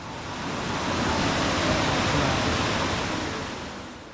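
The Oyu River rushes beside the Arase communal hot spring bathhouse at Oyu Onsen. Its broad, steady roar of flowing water is loud and continuous, with no voices.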